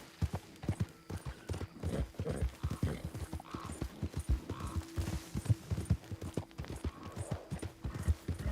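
Horse hooves clip-clop steadily on the ground in Red Dead Redemption 2, a brisk, even rhythm of clear, close hoofbeats carrying on without interruption.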